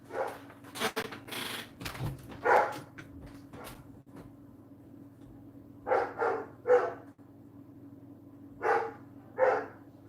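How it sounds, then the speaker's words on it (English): A dog barks at a parcel delivery at the door, several separate bursts of barking, some doubled, spread across the clip with pauses between them, indoors against a low steady hum. "Do you hear my dog barking?"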